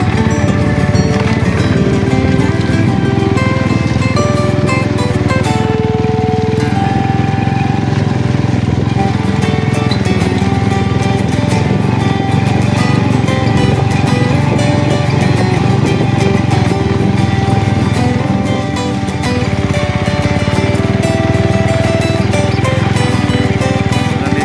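An old motorcycle engine runs steadily at close range, a continuous rough drone that holds throughout with no breaks.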